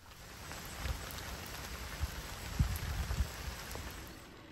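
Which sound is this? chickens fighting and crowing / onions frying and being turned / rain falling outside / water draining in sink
rain falling outside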